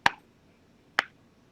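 Two sharp, isolated claps about a second apart, crisp and close, with quiet in between.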